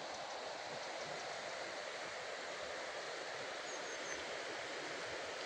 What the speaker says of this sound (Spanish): con el murmullo del agua al lado